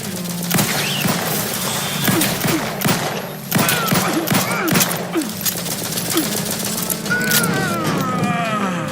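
Sustained gunfire in The Outer Worlds 2, a dense fusillade of close shots with scattered louder cracks, mixed with whooshing effects and a busy game soundscape.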